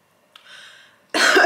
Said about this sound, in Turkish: Niye öksürüyorum?